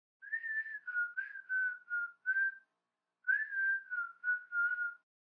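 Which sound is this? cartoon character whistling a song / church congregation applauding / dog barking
cartoon character whistling a song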